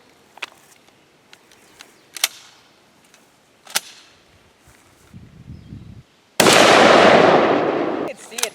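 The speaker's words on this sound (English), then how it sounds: "So this will be my first time shooting a slug." A 12 gauge shotgun fires a 1 ounce slug, one loud close blast with a long ringing decay after faint scattered outdoor clicks and thumps.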